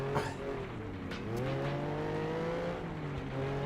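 Race car engines in the video game Flatout 2 drone steadily and loudly, the pitch dipping and climbing with gear changes, with brief tire scrapes and crashes layered over the continuous motor roar.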